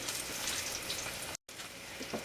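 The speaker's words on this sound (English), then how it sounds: "let you see what they look like while they're frying" Close, steady sizzling and crackling of zucchini frying in hot oil, cut by a brief moment of silence partway through, then resuming.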